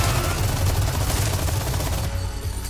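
Rapid gunfire from weapons in the video game Resident Evil 4 Remake, a dense, continuous burst of loud shots that thins out near the end, with no voices over it.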